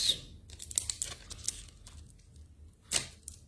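Short bursts of crinkling and tearing, like plastic packaging being ripped open, with quiet pauses between and a sharper rip near the end.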